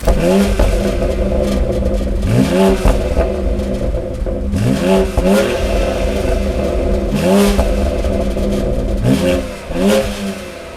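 A BMW X3 M crossover's engine revs hard again and again in a regular rhythm through its exhaust, each loud vroom climbing then dropping back, close by with no talking.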